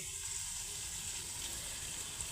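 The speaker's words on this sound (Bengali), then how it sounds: "আমি একটু ভাজা ভাজা করে নিচ্ছি" Carrots and long beans frying in oil in a pan, a continuous faint sizzling hiss, quiet and even throughout, with no voices.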